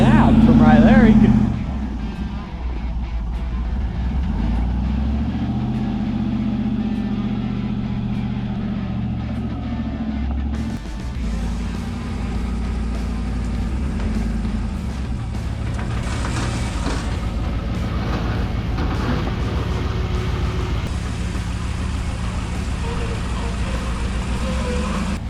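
A vehicle is driven up onto the Ratback truck, its engine droning steadily at close range for the whole stretch with a rising push midway, under people talking.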